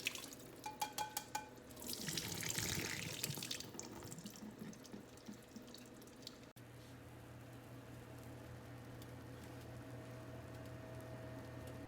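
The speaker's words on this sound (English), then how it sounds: "we also really like sliced olives and pineapple on our pizza, so I'm just gonna go ahead and drain these" Canned sliced olives and pineapple drained into a kitchen sink: a few seconds of liquid splashing and trickling with light drips, then a low steady background hum, fairly quiet.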